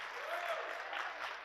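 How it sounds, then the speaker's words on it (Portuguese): A church congregation applauds a pastor during a service, a faint, steady patter of clapping throughout with a voice faintly audible under it. "Pode dar um aplauso ao pastor Sidney?"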